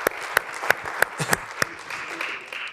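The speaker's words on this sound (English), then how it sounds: "Give a round of applause" Audience applause at a seminar session, with sharp individual claps standing out at a regular beat over a thinner, quieter patter of hands, fairly close and fading toward the end.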